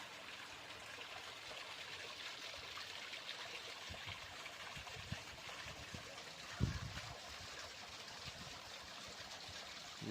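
Fast-flowing water rushing along a drainage ditch that was once a river near a housing complex, a steady faint broadband wash with a few soft low splashes and gurgles, no talk.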